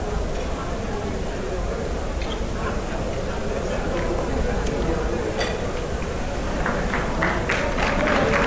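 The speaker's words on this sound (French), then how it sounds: "Merci beaucoup pour ces applaudissements nourris pour le président de la République, M. Macky Sall" Sustained applause fills a gala dinner hall at the 2021 FOGECA event, honouring President Macky Sall; a dense, steady clapping wash from a large crowd runs throughout, with a voice faintly present underneath.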